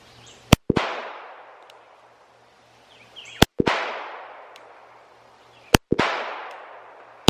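A Colt 1911 pistol firing at a target on an outdoor range, three sharp loud shots spaced a few seconds apart, each followed by a short echoing decay.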